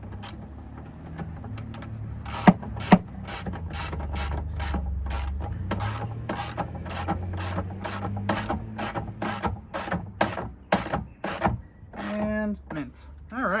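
Ratchet clicking in a long steady run of rapid, evenly spaced pawl clicks while tightening 11 mm bolts on a 2019-2021 Ram 1500 Hemi cold air intake, close up over low background hum, with a faster burst near the end.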